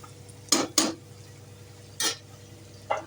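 A metal lid set onto a pot of pepper chicken, a few sharp clatters spaced across the moment, near and fairly loud over a quiet kitchen hum.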